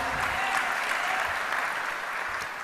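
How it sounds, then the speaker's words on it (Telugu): A church congregation claps together in praise, a steady, dense wash of many hands clapping at even loudness throughout, with no break. "ఒకసారి చప్పట్లు కొట్టి దేవుని స్తుతిద్దాం, హల్లెలూయా"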